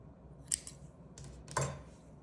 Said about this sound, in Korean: 실 잘라주세요.